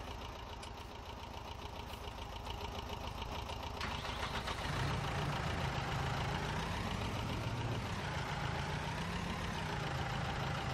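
A Kubota tractor engine idles in Farming Simulator, a steady mid-pitched rumble that runs on without a break at moderate loudness and comes up a little fuller partway through.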